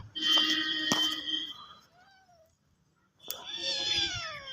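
A cat meows twice, close and clear, with a long drawn-out cry, a brief quiet gap, then a second wavering meow, the cries set in an animal shelter.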